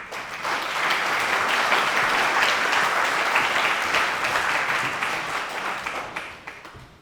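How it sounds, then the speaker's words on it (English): Warm applause from an audience at a community briefing on data centers, swelling quickly, holding steady and dense, then tapering off near the end. "please give a warm round of applause for Rob McGinnis"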